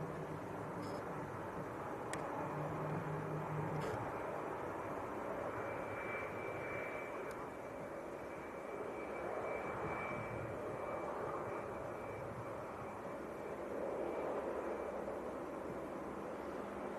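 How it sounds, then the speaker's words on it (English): An Aer Lingus ATR and an EasyJet jet departing Manchester Airport, heard as a distant, low and steady engine roar that swells and fades gently. "We've got an Aer Lingus ATR and an EasyJet coming out."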